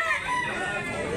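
A rooster crows nearby in a brief, strained call with a wavering pitch, close and fairly loud at a chicken market in Consolacion, Cebu, with faint voices in the background.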